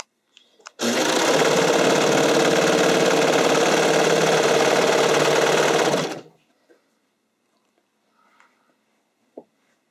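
A sewing machine stitches spandex sleeves in one steady, loud run of about five seconds, then stops, leaving only faint handling clicks.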